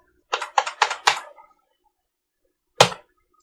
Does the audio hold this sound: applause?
no